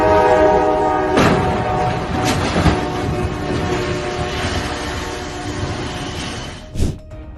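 A train sounds its horn at a railway crossing, a loud, sustained blare layered over the heavy rumble of rolling rail cars, with a brief sharp burst near the end.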